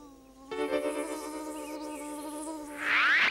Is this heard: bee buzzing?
yes